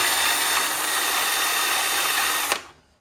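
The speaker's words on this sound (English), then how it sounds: "This is my biggest drill. It's like it's a ½ inch." A large half-inch electric drill bores and shaves the sides of holes in a World Cup Soccer pinball playfield. It whines loud and steady close by, then cuts off abruptly near the end.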